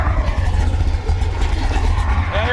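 A barn-find muscle car's engine revs while it is backed down off a ramp, its underside scraping on the mufflers; a loud, close, steady low rumble runs throughout.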